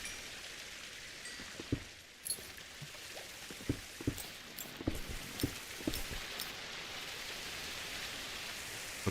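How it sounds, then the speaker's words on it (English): Rain in Minecraft, a soft, steady hiss of falling drops heard from underground, with scattered sharper ticks and small pops over the constant wash, fairly faint and without talk. "I hear rain."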